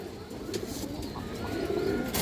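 A female pigeon coos softly among other birds, with low rolling calls and a few higher chirps over a steady background of noise at close range.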